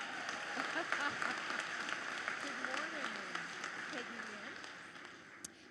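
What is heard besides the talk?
applause at a graduation ceremony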